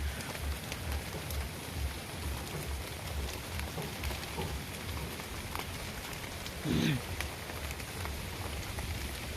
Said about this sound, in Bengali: দেখেন অনেক বৃষ্টি পড়তে আছে, মানে টিপ টিপ টিপ টিপ বৃষ্টি পড়তে আছে